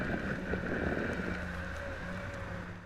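Urethane electric skateboard wheels rolling over smooth asphalt make a steady, close, unbroken roar with a breathy wind rush, easing slightly toward the end.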